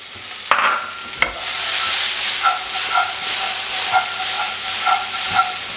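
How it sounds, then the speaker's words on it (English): Sichuan pepper and black beans sizzle and fry in hot oil, a loud steady hiss close by, broken by a couple of sharp clacks early on and pulsing bursts of spitting through the rest. "So these are just starting to fry now. You can really get the Sichuan pepper."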